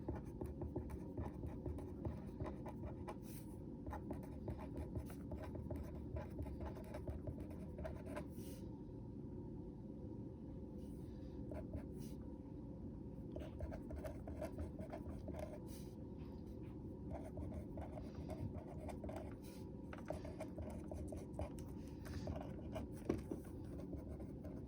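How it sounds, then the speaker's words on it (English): Steady, soft scratching of a pen or pencil as notes are jotted on paper, with continuous faint strokes and occasional small taps, close and quiet, no talk. "Let's jot that down on our note paper now next to our A for restate and answer."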